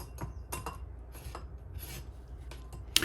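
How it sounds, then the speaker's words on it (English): A lemon is zested on a grater for a tomato and snap pea salad, giving repeated rhythmic rasping scrapes as the peel rubs across the metal, close and alone, ending with a small clink. "Remember when you're zesting your lemon that you just want the yellow part."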